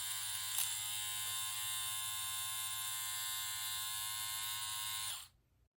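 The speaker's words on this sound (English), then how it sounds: "I'm gonna go ahead and show you what this sounds like when it's running." ZORAMI ear and nose hair trimmer running alone, a steady close electric buzz that stays even for about five seconds before it is switched off and cuts out.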